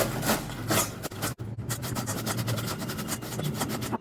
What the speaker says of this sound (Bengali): এবার আমি পেঁয়াজটাকেও সেম প্রসেসে ঘষে নেব